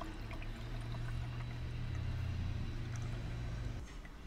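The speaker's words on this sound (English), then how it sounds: "we take the first Gyokuro and we just pour it into the first glass" Steeped Gyokuro green tea is poured into a glass in a soft, continuous trickle that lasts a few seconds and then tapers off, faint and close.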